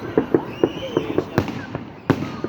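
Fireworks going off on bonfire night, a quick series of crackling bangs and pops, some sharp and close, with faint voices in the background.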